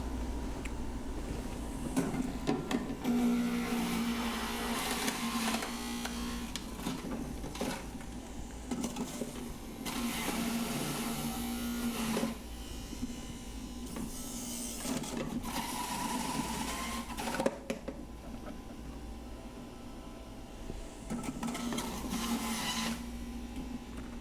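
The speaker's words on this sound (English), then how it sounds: "first thing that we want to do is turn our juicer on" A juicer runs while pears and oranges are juiced, giving a steady mechanical whir and hum with grinding and rattling that rises and falls as fruit is pushed in, heard close at moderate level with no talking.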